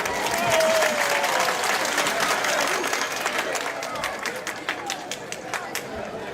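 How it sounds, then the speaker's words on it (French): Sustained audience applause at an official ceremony, steady clapping throughout with crowd murmur and some voices mixed in. "il faut bien l'applaudir"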